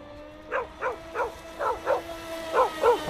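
A dog barks outdoors in about seven evenly spaced barks at moderate distance, over a steady background hum.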